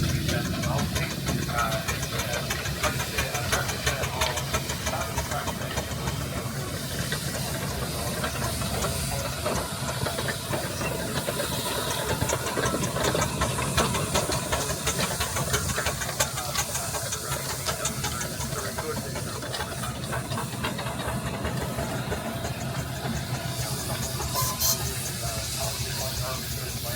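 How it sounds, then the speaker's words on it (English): A steam traction engine runs at a threshing festival in Moynalty, with a constant steam hiss and mechanical chugging over the whole stretch while someone talks nearby. "It's an established traction engine"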